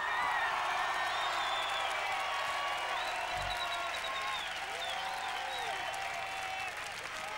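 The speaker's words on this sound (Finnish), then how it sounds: "Hyvät naiset ja herrat, raikuvat aplodit," Roaring applause and cheering from a concert crowd as a performer comes on stage at the Pop Finlandia concert in 2000, a continuous wash of clapping with whoops and shouts, loud and unbroken.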